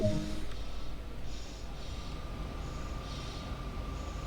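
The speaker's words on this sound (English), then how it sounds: "What's that hissing noise?" A Deutsche Bahn train at a station gives off a steady broadband hiss as its brakes release, with a low rumble beneath and faint tonal squeals, continuous and fairly close.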